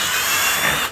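A power drill bores a 3/4 inch hole into thick-walled PVC pipe, a loud, close, continuous whirring grind lasting about a second with no talking.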